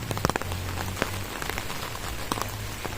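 Heavy monsoon rain during flooding pours down steadily, with a dense hiss and sharp nearby drops spattering on a surface, under a low constant rumble.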